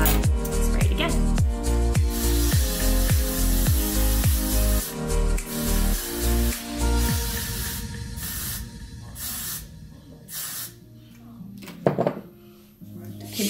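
Repeated short spritzes from a spray bottle wetting hair for a ballroom hairstyle, a rhythmic series of bursts over background music, continuing steadily before tapering off.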